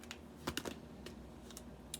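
A tarot card deck is shuffled in quick bursts of crisp riffling and clicking, close up and fairly quiet, with no voices.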